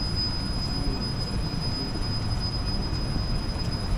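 A Finch West LRT light rail train rumbles at the station, a steady loud wheel and rail roar with a thin high squeal held throughout, no voices.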